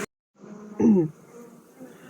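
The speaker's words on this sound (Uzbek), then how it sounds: "Mana arisi ham ancha ko'payadigan bo'ldi." Honey bees buzz steadily around an open beehive after a new queen has been added, a close, continuous insect hum that swells briefly louder as one bee passes near.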